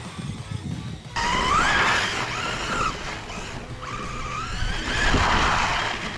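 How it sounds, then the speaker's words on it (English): A 2S street basher RC car power-slides on all four wheels at high speed, its tires hissing and squealing in two long scrubbing bursts over a steady whirring motor, close and loud throughout. "High speed drift. Excuse me, 4-wheel power slide."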